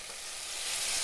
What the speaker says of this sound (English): Now let's add the ginger garlic paste, green chili. Let's fry this for 2 to 3 minutes.